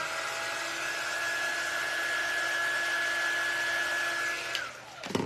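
A hair dryer blows steadily for about five seconds to dry paint on a craft mummy door hanger, running close and loud with a constant tone before cutting off near the end.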